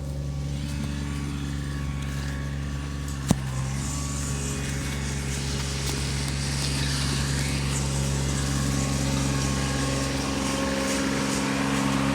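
A lawn mower engine drones steadily nearby, a continuous low mechanical hum with a brief sharp click partway through.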